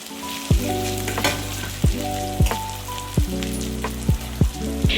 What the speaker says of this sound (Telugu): అల్లం వెల్లుల్లి పేస్ట్ ఫ్రెష్ అది కొంచెం పచ్చివాసన పోయేంత వరకు వేయించుకుని ఆ చికెన్ ముక్కల్ని కూడా వేసేసుకుని